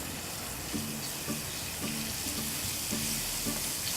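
Pepper powder is sautéed in a pan for a tomato fish dish, giving a steady frying sizzle with a faint rhythmic scraping of stirring throughout and no talking.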